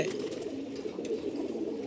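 Racing pigeons cooing softly in a steady, low murmur that stays continuous and fairly close throughout, with no talk over it.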